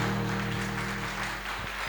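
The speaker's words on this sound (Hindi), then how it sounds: "जोरदार तालियां दूंगा। बजा दीजिए।" Audience at a Mahavir Janma Kalyanak festival cultural program during a Digambar Jain Maha-aarti breaks into steady, continuous applause, an even wash of clapping with a low hum underneath.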